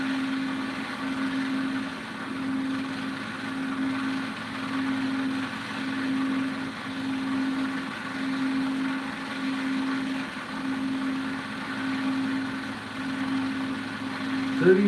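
A homemade pulse motor with two coils runs steadily at around 3,200 RPM, giving a continuous hum with a faintly pulsing rhythm throughout, moderately close and alone.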